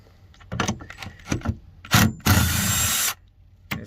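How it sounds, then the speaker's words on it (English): Impact gun undoing T40 seat bolts on a Citroen Berlingo, short close rattling bursts and clanks ending in a sustained loud hammering whir of about a second, with no talk. "We've got an impact gun, so we're cheating a little bit."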